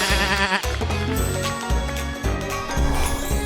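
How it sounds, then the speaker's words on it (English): Goat bleating, loud and close, a few wavering bleats in quick succession with short pauses between them. "Look at this, we've got a goat."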